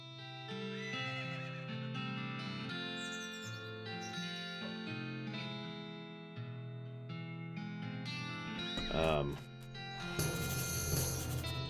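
Drunk horses in the western video game West of Loathing neigh and whinny in long wavering calls over a soft musical backdrop, followed by a burst of brighter noise near the end.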